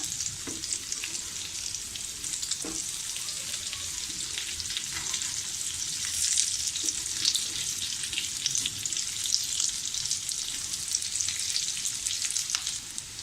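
Poha potato cutlets shallow-fry in a pan, giving off a steady, even sizzle with light crackling throughout, moderately quiet and uninterrupted by talk.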